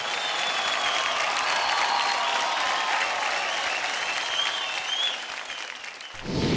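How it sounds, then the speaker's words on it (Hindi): Loud, sustained applause from a studio audience at a televised dance competition fills the room for several seconds after a dance pair's performance, dipping slightly near the end. "जोरदार तालियां हो जाए टेरेंस की टोली से वरुण और पियाली के लिए"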